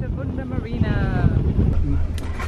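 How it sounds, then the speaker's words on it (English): Boat engine idling while moored in a marina, a low steady hum under wind noise on the microphone, with a person speaking over it. "This is the hum of the engine that is sitting in water but no longer taking on water."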